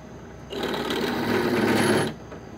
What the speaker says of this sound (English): Alright, let's go drill that out.